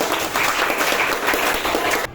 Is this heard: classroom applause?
yes